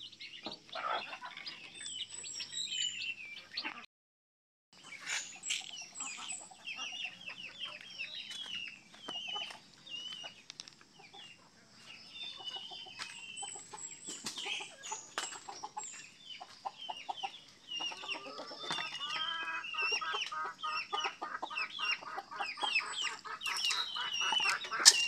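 Chickens and small chicks on a farm in Batangas, with steady clucking and high peeping calls filling the scene, fairly close. Brief gap near the start, then the calls grow busier and louder toward the end.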